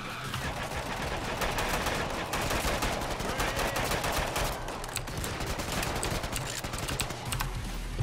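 Rapid SMG gunfire in a video game crackles in dense, continuous bursts across the whole stretch, loud and close, with other shots layered underneath.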